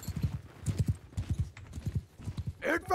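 Horses gallop in Mount & Blade II: Bannerlord, with rapid, rhythmic hoof clip-clops repeating throughout at close range and a brief whinny-like sound near the end.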